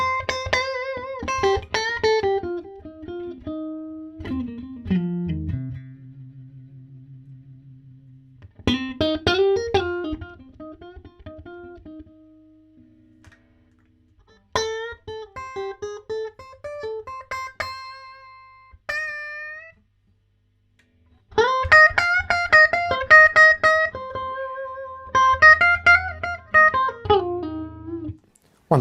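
An electric guitar played through a hand-wired Fender Princeton Reverb amp with the guitar volume knob at 4, slightly gritty phrases and sustained bends separated by short silences, close and alone.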